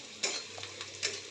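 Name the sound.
onions frying in oil with bay leaf and cumin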